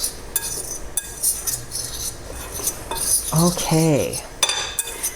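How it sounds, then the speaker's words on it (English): A whisk clinks and scrapes against a bowl while mixing dry ingredients for zucchini bread, a quick run of metallic taps and stirring under a brief spoken word. "I've got my whisk here"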